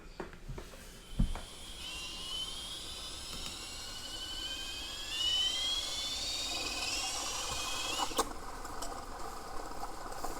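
Wheelbarrow tire rigged as a gyroscope spinning up to high speed, a rising whine climbing steadily over several seconds above a steady motor drone, with a few knocks and clunks early on.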